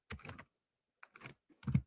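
A woman types on a computer keyboard into a chat with ChatGPT: short, sparse clusters of clicking keystrokes separated by silent pauses, fairly quiet and close.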